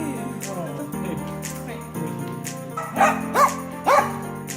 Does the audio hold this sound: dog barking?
yes